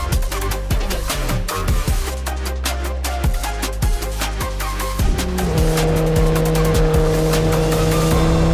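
A Formula 4 race car driven hard around the Mandalika circuit in Indonesia, its engine revving loud and close, rising and dropping through quick gear changes with tyre noise throughout and no voices.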